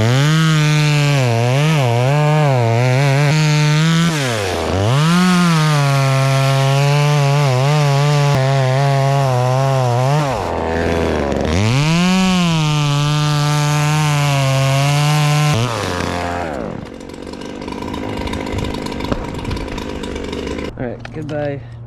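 A $135 budget chainsaw roars close by, its engine pitch rising and falling as it bites through wood, then cuts off into quieter rustling.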